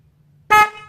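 A single short, loud blast from a low-tone snail car horn with a buzzing tone, sounding abruptly after near silence.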